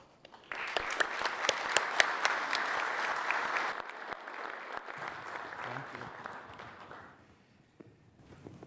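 Audience applause welcoming keynote speaker Tom at the CIO National Conference, a steady burst of clapping that holds strong for several seconds, then thins into scattered claps and fades near the end.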